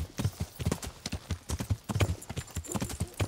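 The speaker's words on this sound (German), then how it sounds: "Jetzt reiten wir durch den duschteren Wald" Horse hooves clip-clop in a steady rhythmic gallop while riding through a dark forest in Kingdom Come: Deliverance, close and continuous.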